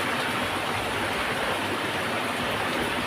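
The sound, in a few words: fish curry with elephant foot yam simmering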